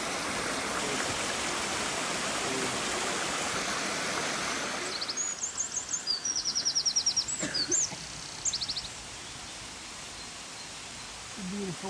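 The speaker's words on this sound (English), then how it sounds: "It's a beautiful waterfall there." A waterfall in Ireland pours steadily as a broad, loud rush of falling water, with a few faint bird calls over it midway as the roar briefly eases.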